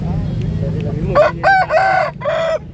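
A young Bangkok rooster, about five to six months old, crows nearby, loud and a bit broken, after a few seconds of low background noise.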